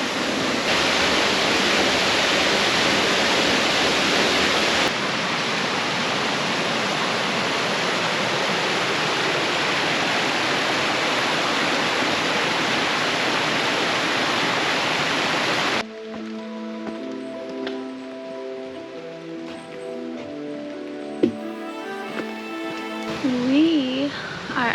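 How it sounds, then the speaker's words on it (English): Twin Falls, a roughly 31-foot waterfall in Silver Falls State Park, roars as a steady, loud broadband rush for about fifteen seconds, then drops to a quieter water wash with other sounds on top near the end. "We are at waterfall number 7, Twin Falls Waterfall."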